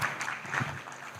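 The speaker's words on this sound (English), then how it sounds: "Big round of applause for Aisha." Audience applause at a business leadership summit, a soft, distant, continuous patter of many hands, brief and fairly faint.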